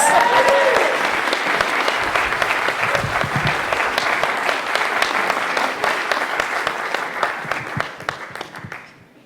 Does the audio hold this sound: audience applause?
yes